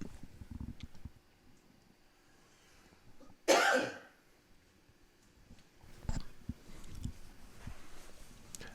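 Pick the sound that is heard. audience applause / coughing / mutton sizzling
coughing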